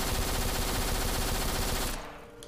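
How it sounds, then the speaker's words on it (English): Dense automatic gunfire from a shooter game on the Nintendo 3DS, a loud continuous rattle of rapid shots for about two seconds that cuts off into quieter game ambience. "They're shooting me."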